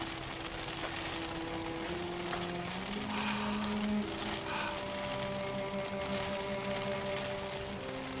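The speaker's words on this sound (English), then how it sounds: "It's raining hard." Heavy rain hisses in a steady, unbroken wash across a scene in a costumed period drama, with sustained musical tones playing over it and no talking.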